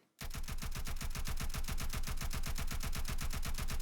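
Rapid automatic gunfire from a weapon in an Unreal Engine 4 first-person shooter template, an evenly spaced stream of sharp shots repeating several times a second, loud and continuous with no talking.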